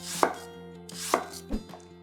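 A knife slices through apples in three crisp, separate cuts, each ending with a sharp tap on the board, close and clear with no voices.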